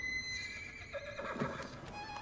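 A horse whinnies in the TV comedy What We Do in the Shadows, a ghost horse, its shrill neigh rising and wavering over a steady background for about two seconds, with faint clip-clop-like sounds mixed in.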